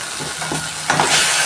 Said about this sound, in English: you smash the tomatoes until they cook well